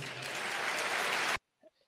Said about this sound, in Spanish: ovación de público